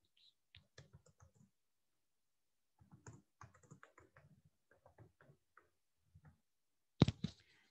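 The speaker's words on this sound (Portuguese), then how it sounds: "Deixa eu digitar aqui." Typing on a computer keyboard in a quiet room, with scattered soft key taps in short irregular runs and a single louder clack near the end, close and alone with no talking.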